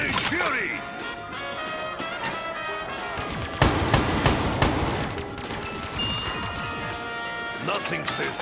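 A crazed Russian soldier fires a machine gun in a zombie shooter game, rapid dense bursts that crackle on and off throughout, loud and close with other game noise mixed in.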